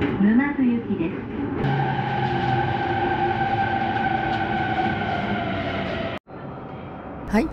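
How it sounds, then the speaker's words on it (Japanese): Interior of a Tokaido Line local train bound for Numazu, a steady rumbling hum with sustained tonal motor whine running throughout, a brief voice at the start, and a sharp momentary dropout near the end before the running noise resumes. "この電車は東海道線沼津行きです。"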